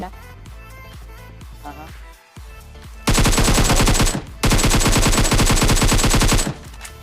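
Rapid automatic gunfire in a mobile shooter game, loud sustained bursts of fast shots, a long burst then a brief pause and another long burst, after quieter game sounds.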